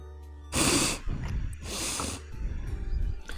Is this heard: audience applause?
no